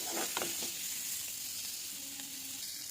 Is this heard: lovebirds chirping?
no